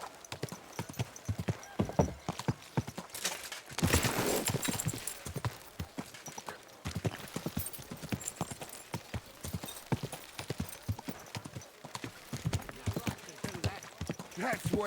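A horse in the video game Kingdom Come: Deliverance II walks with steady, close hoof clip-clops, with a brief whinny and someone speaking over the hoofbeats.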